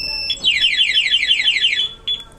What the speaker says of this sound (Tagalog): Saka lang siya mag-alarm.